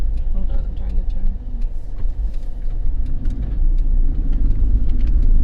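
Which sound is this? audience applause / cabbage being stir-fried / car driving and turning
car driving and turning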